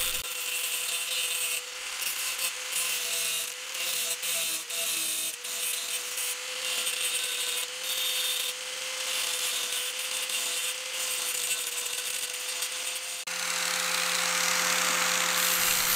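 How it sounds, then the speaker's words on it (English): An angle grinder with a cutoff wheel cuts through a car body panel, holding a loud, steady, high whine up close, then shifting to a harsher, brighter pitch near the end. "going to simply take my angle grinder with a cutoff wheel and cut off all the existing pieces"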